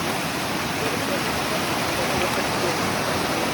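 Devkund waterfall, water rushing forcefully in a dense, steady roar of white noise that fills the whole clip, loud and unbroken with no other sounds standing out.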